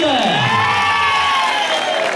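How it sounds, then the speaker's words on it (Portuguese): A crowd at a big political primaries rally in São Paulo's east zone cheers and applauds loudly and steadily, a dense wash of shouts and clapping throughout. "Cadê o aplauso do Ligeirinho, o Flávio Sol, o Pedrinho?"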